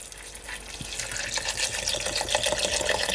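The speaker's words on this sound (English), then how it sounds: "I'm just gonna add some water to my blender, and I'm gonna add at least 3 cups of water." Water pours into a blender jar in a steady, gurgling stream, close and continuous, growing slightly fuller and louder as it fills, with no talk over it.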